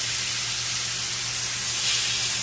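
Blackened fish sears in a pan greased with avocado oil, giving a loud, steady, close sizzle and bright hiss that continues unbroken with a faint low hum underneath.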